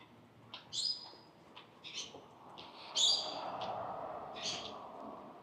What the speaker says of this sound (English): The birds coming through here.